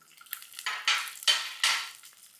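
Garlic cloves frying with peanuts, cumin and dried red chillies in a pan, heard as a few soft scraping stirs and brief sizzling bursts, fairly quiet and close.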